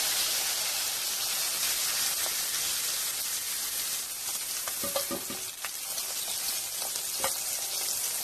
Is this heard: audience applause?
no